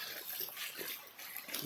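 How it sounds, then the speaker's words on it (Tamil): Rainwater rushing through a street drain in a flooded residential area after heavy rain, a steady broadband wash of flowing water with slight surges, close and fairly loud, with no voices. "இந்த வடிகால் பாருங்கள், மேலே ஓடிட்டே இருக்குது"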